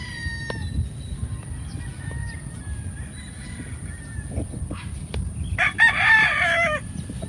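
A rooster crows once on a big chicken farm in Lipa City, Batangas, the call rising out of a quiet, low outdoor hum near the end after several calm seconds.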